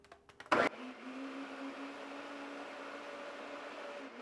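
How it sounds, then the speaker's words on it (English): Peaches with lemon juice and sugar are pureed in a blender: a brief clatter and a sharp burst at startup, then a steady, moderately quiet whirring hum for several seconds, with no voices. "we're going to puree this just like we did the strawberries"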